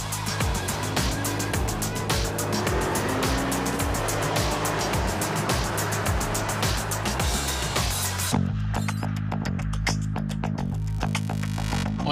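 A 2025 Ram 1500 Limited pickup downshifts and accelerates hard, its engine roar loud and steady from inside the cab, the pitch rising, then dropping as it shifts near the end.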